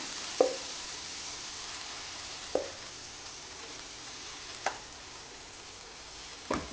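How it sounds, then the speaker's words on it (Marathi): Moong dal dosa batter poured onto a hot griddle greased with water, giving a faint, steady sizzle with a few sharp utensil taps spaced a couple of seconds apart and no voices. "आता आपण यावर डोशाचे मिश्रण टाकून घेऊया"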